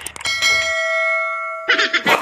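A bright notification-bell sound effect rings once after a few quick clicks and hangs in a clear, sustained tone before fading, then a voice starts talking.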